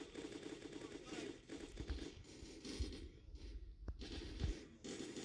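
Rapid bursts of video game gunfire crackle through a steady game backdrop, with several sharper shots standing out near the end.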